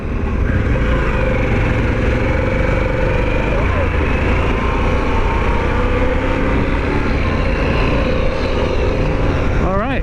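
A 2021 Harley-Davidson Pan America motorcycle engine drones steadily under heavy wind rush while riding, with a rising rev near the end as the rider opens it up.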